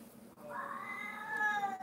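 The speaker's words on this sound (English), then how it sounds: "my cat, our old lady cat wants her treats" An old female cat gives a single drawn-out, plaintive meow asking for treats, close and fairly quiet in a calm room.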